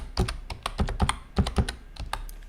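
Fingers typing a Facebook password on a computer keyboard, a quick irregular run of close, crisp key clicks in small bursts with short pauses between.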